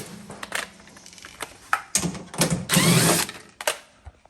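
Screws being removed from a U-Line refrigerator unit during a thermostat replacement, irregular close clicks, ratcheting and metallic rattles with brief louder scraping bursts.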